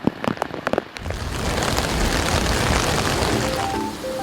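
Heavy typhoon rain sets in after a second of scattered sharp taps, becoming a dense, steady roar of downpour on surfaces; Typhoon No. 15 nearing the Kanto region of Japan.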